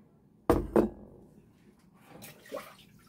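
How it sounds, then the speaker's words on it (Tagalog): Water splashes as someone washes their face, with two close, loud splashes in quick succession followed by fainter dripping and two softer splashes a moment later. "hugasan po muna natin ang ating mukha"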